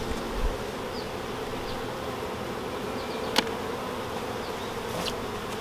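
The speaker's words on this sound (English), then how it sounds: "let these bees go back into the hive" Honeybees buzz steadily around a newly installed hive as they settle around their queen, a dense, continuous drone close by with a few brief louder passes and one sharp tap, and no talking.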